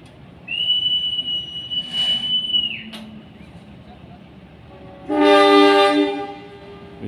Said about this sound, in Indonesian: Momen silang dua kereta lokal di halte Gada Bangkong